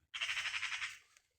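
A bird gives a single drawn-out squawk in the woods, a harsh pulsing call lasting about a second that fades out, fairly faint and alone, with no talk.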